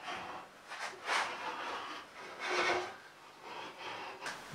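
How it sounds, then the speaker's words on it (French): A marking gauge scribes a line along a wooden board for making wooden clamps, producing soft, uneven scratchy rasping strokes of varying intensity, close and fairly quiet. "on va tracer ça au trusquin. Toujours contre ma face de référence."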